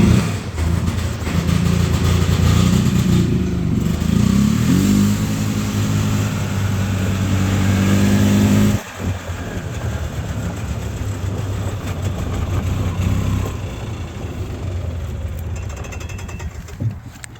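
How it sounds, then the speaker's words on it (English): A golf cart's small engine runs with a loud, rapid chugging rumble, which shifts abruptly midway to a lighter, steadier running note as it drives off. "So I'm going to hop on this golf cart here, just so I don't have to walk the 20 feet out to the other vehicles I got going."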